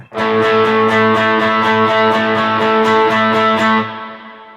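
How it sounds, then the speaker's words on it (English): An electric guitar strums a steady repeated rhythm, loud and close, its chords washed in reverb that lingers and fades after the playing stops. "the reverb is kind of just like a bed underneath that."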